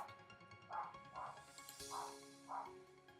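A dog barks four times at an even pace. The barks are faint and a bit distant and sit over a steady background of music or game tones.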